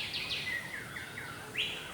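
A bird with an orange beak and crest gives quick, high chirping calls, a few short rising and falling notes in close succession, fairly faint against a quiet background.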